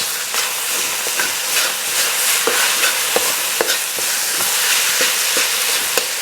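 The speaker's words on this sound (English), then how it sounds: "I'm going to add my sauce, which is my gochujang, and my soy sauce. And I'm gonna give it a toss." Kimchi fried rice with gochujang and soy sauce sizzles loudly in a hot pan while being tossed and stirred, with steady frying hiss broken by repeated sharp scrapes and clacks of the utensil against the pan.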